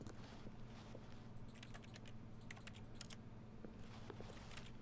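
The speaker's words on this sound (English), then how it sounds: "Why every time I'm pressing, it sounds like I'm still typing?" Rapid keyboard typing from The Stanley Parable video game, a steady run of light clicking keystrokes over a low room hum, close and moderately quiet, with no talk.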